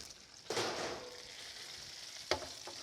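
Spatchcocked turkey roasted with Cajun butter, just out of the oven, sizzling faintly in a steady low crackle, with a couple of louder clanks or pops as the pan is handled.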